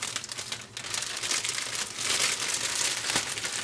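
A plastic UMAi dry-aging bag crinkles and rustles steadily as it is folded over a piece of meat, close and fairly loud, with no voices.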